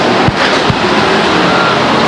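Race cars roar past at Stockton 99 Speedway in a continuous loud, dense engine drone, with a couple of brief sharper bursts near the start.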